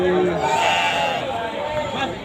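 Goats bleat at a busy livestock market in Situbondo, a few wavering cries rising over a murmuring crowd while people talk throughout.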